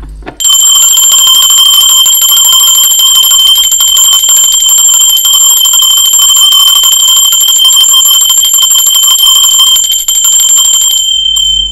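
A bright bell rings in one long sustained tone, loud and close, holding steady for about ten seconds before cutting off.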